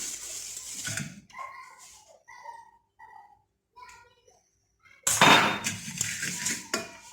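A pressure cooker pot being picked up, handled and greased with oil so a cake won't stick: scattered metallic clinks and knocks with quiet gaps, ending in a louder burst of clattering and scraping, with faint voices in the background.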